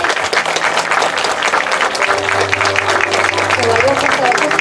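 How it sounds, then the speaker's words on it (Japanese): Loud, sustained audience applause greets a film director and producer at a post-screening stage greeting in Nagoya, with a voice speaking over the dense clapping and a low hum underneath. "盛大な拍手でお願いします。"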